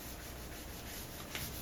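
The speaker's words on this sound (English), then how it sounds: "Clean the glue off and then light sand." Light hand sanding of a wooden floating shelf after gluing, a faint, continuous soft rubbing close by with no talk.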